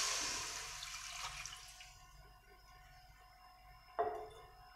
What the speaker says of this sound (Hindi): हीटेड पैन में हम ऐड करेंगे 1 ग्लास वाटर।